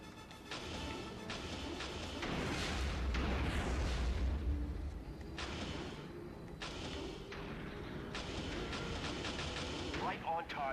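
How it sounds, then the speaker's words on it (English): Y-Wing bombs blast through a capital ship's hull in Star Wars Rogue Squadron II, heavy booming explosions rumbling over continuous battle noise and laser fire, with voices talking over the action. "A Y-Wing's bombs should be able to blow through the hull"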